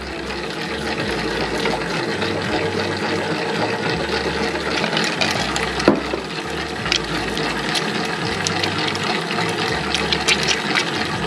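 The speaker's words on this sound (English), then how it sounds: "A bit more water down the side." Water is poured down the side of a mixer bowl into high-hydration pizza dough as the machine runs, a continuous liquid splashing over the steady rhythmic churn of the mixer motor, close and fairly loud.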